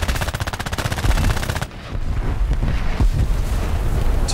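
Rapid machine gun fire from an aircraft's guns in War Thunder air combat, a dense rattling burst for the first second and a half that cuts off abruptly, followed by steady engine roar and scattered impacts.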